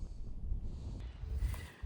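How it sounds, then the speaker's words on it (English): Low, steady wind buffeting the microphone, a continuous rumbling roar with gusts rising and falling throughout. "Oh, it's really windy."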